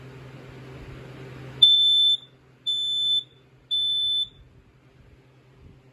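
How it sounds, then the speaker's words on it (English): A Kidde battery-operated dual-sensor smoke alarm gives three loud, piercing beeps of equal length with short gaps between them. A faint low hum sits under the first moments before the alarm starts. "Here's the Kidda battery operated dual sensor alarm."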